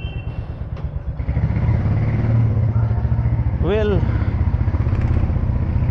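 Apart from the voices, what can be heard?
Royal Enfield motorcycle engine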